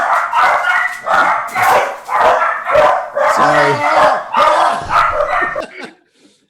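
Dogs bark in a tabletop game's fantasy scene, a burst of yips and woofs mixed with excited overlapping talk, fairly loud and close, ending abruptly.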